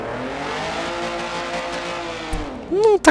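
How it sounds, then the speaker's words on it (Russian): A Mazda RX-7 running an inline-four in Forza Horizon 4 idles with a steady engine drone, then revs sharply upward near the end, with a brief tire chirp. "Ну, такой, знаете, медленный, размеренный движок"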